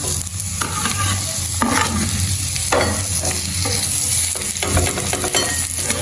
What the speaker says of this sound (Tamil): வெங்காயம் பச்சை மிளகாய் வதங்கட்டும்.